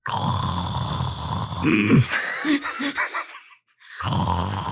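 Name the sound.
voice imitating snoring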